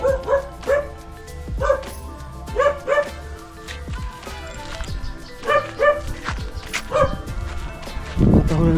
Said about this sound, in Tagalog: Dami aso dyan.